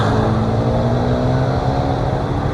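A 2021 Honda CB650R BS6 four-cylinder motorcycle idles at about 1250 to 1300 rpm, a loud, close, steady low engine drone with even pulsing and no revving.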